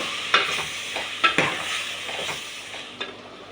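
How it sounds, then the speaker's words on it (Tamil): Vegetables for sambar sautéing in a pan, a steady sizzle broken by several sharp scrapes and stirs of a spoon against the metal at irregular intervals, close and moderately loud with no voices. "இதை நம்ம வதக்கிக்கலாம்."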